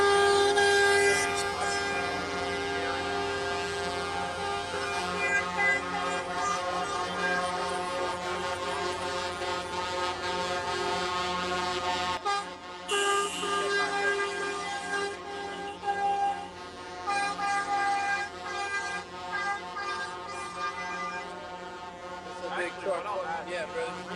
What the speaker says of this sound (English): I'm just going to let you listen to the horn.